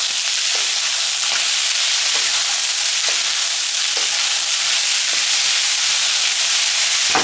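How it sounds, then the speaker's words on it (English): Loud, steady sizzling of onions and celery stir-frying in a hot pan for a Cantonese dish, with a continuous hiss and faint periodic scraping as they are tossed. "Pour that in, stir fry."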